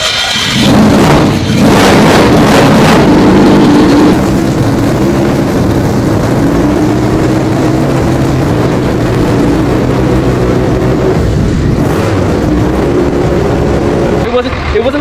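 A turbocharged 12-rotor rotary engine running on ethanol revs hard and very loud, with rising and falling sweeps over a harsh, buzzing roar that fills the whole stretch, up close in an enclosed room.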